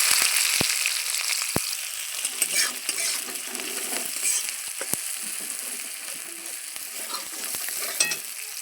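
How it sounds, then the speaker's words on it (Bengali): Chopped onion sizzles steadily in hot oil with cumin seeds for an egg and soybean curry. A close, continuous frying hiss is broken by scraping stir strokes and a few sharp pops, with no voices. "পেঁয়াজটা ভাজা ভাজা হয়ে এসছে"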